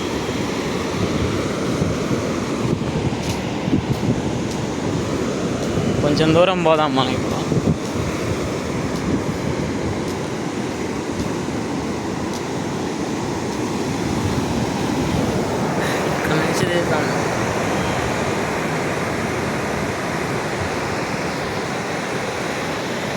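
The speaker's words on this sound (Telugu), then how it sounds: "సముద్రం అలలు చూడండి ఎలా వస్తున్నాయో" Sea waves roll onto Suryalanka beach at Bapatla in a constant loud wash of surf and wind, with brief speech heard briefly in between.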